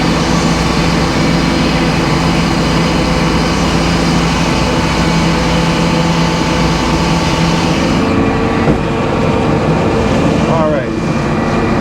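A sawmill cuts a 2x12 plank of pin oak decking in a loud, continuous mechanical roar with strong low drone throughout, easing slightly near the end.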